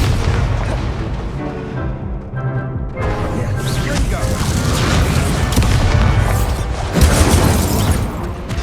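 Incendio fire spell cast in combat in Hogwarts Legacy, a loud whooshing burst of flame with crackling impacts amid ongoing battle noise and spoken spell calls.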